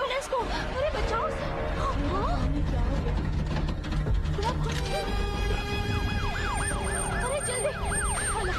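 An ambulance siren wails loud and close in a dramatic movie scene, its rising and falling tones layered over rumbling traffic and commotion, with voices talking underneath.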